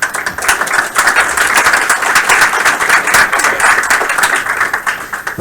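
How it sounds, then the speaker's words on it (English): An audience at a game studio build review gives a dense round of clapping, loud and sustained throughout, with individual claps blending into a continuous wash. "Slow clap, appreciate it."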